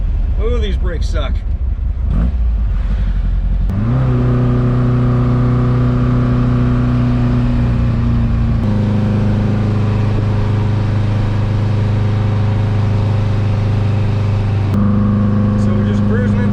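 A Porsche 914 cruises in third gear, its engine a steady low hum that shifts pitch as the car changes speed, with a person talking over the drive and some cabin noise.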